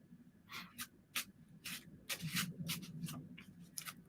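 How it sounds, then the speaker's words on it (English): Cards riffle and slap softly in repeated bursts, an uneven papery shuffling close by. "I hope you can hear me over this ASMR of me shuffling."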